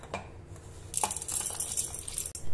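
Roasted dal and cashews drop into a mixer jar with a few light clinks and rattles against the container, quiet and close with no talking.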